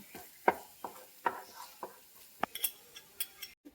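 Egg added to a pan for a Coorg dish, with scattered light clinks and taps of a utensil against the pan over a faint sizzle, close and quiet, no talking.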